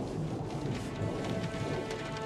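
A storm's steady heavy rain hisses continuously, with low rumbling thunder rolling underneath, dense and unbroken throughout.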